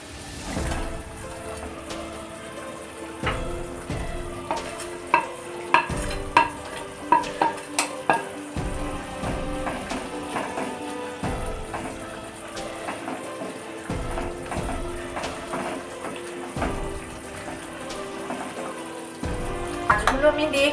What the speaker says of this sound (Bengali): দেখুন গ্রেভিটা কিন্তু আমার ফুটে গেছে। এবার আমি মাছগুলো এতে দিয়ে দেব।